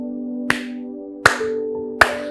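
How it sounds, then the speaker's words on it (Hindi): Three sharp hand claps ring out alone at an even, unhurried pace, each a crisp close crack with a short decay, over a faint steady background tone. "बोलने के पश्चात आपको 3 ताली बजानी है"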